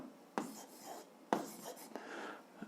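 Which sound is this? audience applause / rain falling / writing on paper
writing on paper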